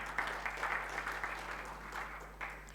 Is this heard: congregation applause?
yes